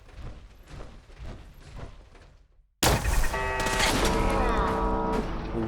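Laser turrets firing in the video game Fallout 4, a sudden loud burst that cuts in after quieter gameplay and sustains a dense, crackling volley of zapping shots to the end.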